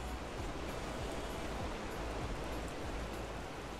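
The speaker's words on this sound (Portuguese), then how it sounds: "Cachoeira." Waterfall in the ARK survival video game, a steady, dense rush of falling water that fills the whole soundscape evenly with no voices.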